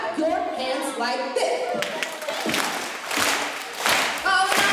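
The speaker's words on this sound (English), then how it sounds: "Everybody, clap your hands like" A live audience claps along during a charity performance by a step dance company, sharp hand claps in rough rhythm layered under an announcer's voice and crowd noise.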